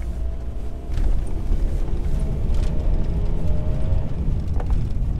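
A lifted VW T5 van on Eibach Billstein B6 suspension rolls along a gravel road, with steady low tyre rumble and road noise dominating throughout and a few faint higher crackles of stones.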